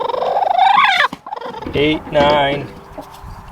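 A broody hen growls and clucks loudly and close by in a backyard coop, with harsh, drawn-out, gobble-like calls in bursts. A person counts aloud over them.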